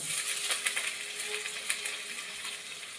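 Grated ginger hits onions already fried red in a pan, giving a steady bright sizzle with small crackling pops throughout.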